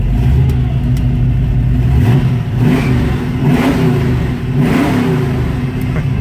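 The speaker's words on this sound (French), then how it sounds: "vous devinez un petit peu le bruit que ça fait à l'accélération" A 1966 Ford Mustang coupe's V8 revs up loudly and close by, a deep continuous roar rising and falling through several throttle blips over about six seconds, heard alone.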